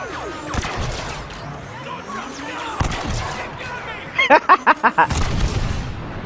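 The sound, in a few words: blaster gunfire shooting stormtroopers in video game Star Wars Battlefront II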